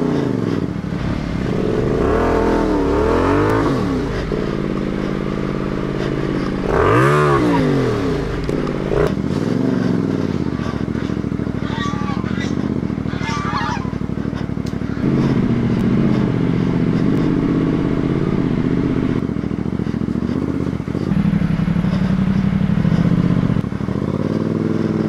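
A CFMOTO 450MT motorcycle on an off-road alpine trail: a close engine that revs up and down repeatedly, with rattles and scraping from the rough ground as it climbs and slides.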